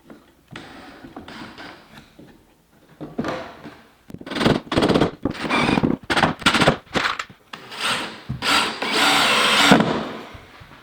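Power drill driving blue-dipped exterior-grade screws, loud and close, in a series of whirring bursts of about a second each, separated by brief pauses, no talk.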